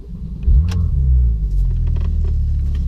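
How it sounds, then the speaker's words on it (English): A Porsche 911 Turbo S (991) pulls away with a deep, close engine rumble that swells briefly and settles into a steady low drone, with faint clicks above it. "Now let's see what this Porsche 911 Turbo S is like to drive."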